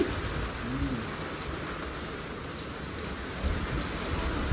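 Rain falling onto a tin roof with water dripping off it, a steady soft hiss of drops that carries on evenly throughout, faint and with no talking.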